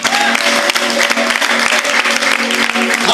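Steady, dense applause from a church congregation clapping in worship, continuous and fairly loud throughout with no break.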